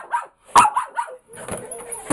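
A dog barks in short, sharp bursts near the mic, several yips spread across the moment, with a person talking between and over them.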